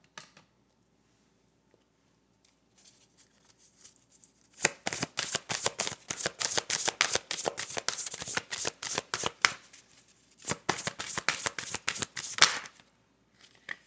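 A deck of prayer cards is shuffled close up in two bursts of rapid riffling flutter, after quiet handling clicks and a pause.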